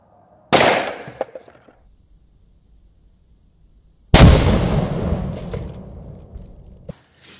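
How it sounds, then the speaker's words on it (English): A plastic bottle filled with hydrogen and oxygen gas explodes. A sharp crack is followed by a long, loud blast that decays over about three seconds, close and with no talk. "that one finally blew it apart and it was a pretty big explosion"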